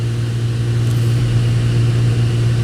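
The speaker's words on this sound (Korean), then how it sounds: "얘 모터 소음이 또 크죠" The blower motor of a BMW 7 Series F-body runs with an abnormally loud noise, a steady low hum with a constant whirring drone that stays unchanged and close, with no voices over it.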